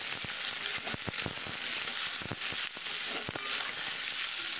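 Potato pieces and onions frying in oil in a pan, a steady close sizzle with scattered crackles and a few soft stirring clicks, no voices.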